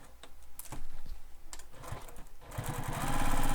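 A sewing machine stitches a crossbody bag in short, stop-start bursts of back stitching, with light mechanical clicks that build into a louder, continuous run toward the end.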